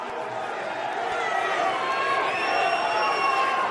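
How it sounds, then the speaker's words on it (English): A boxing crowd at ringside after a heavyweight bout roars in a dense, steady wall of shouting and chanting that holds for the whole moment without a break. "Everyone's just shouting out Usyk"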